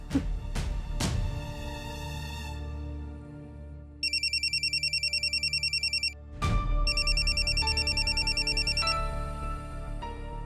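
A landline telephone ringing over background music in a household drama, a rapid electronic trill in two repeated bursts separated by a pause.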